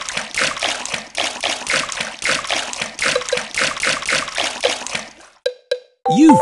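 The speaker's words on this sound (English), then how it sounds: "Peppa and George love splashing in the pool." Water splashes in a pool in a cartoon pig video game, bursting in a quick repeated rhythm of bright splashes, then a short pause and a few sharp game chimes at the end.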